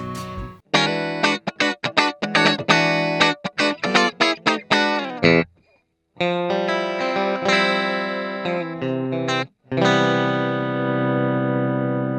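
Electric guitar through a Shift Line Twin MkIIIS preamp on a clean gain setting, played as a run of quick picked notes and chords, then a few longer ringing chords, bright and close with short gaps between phrases.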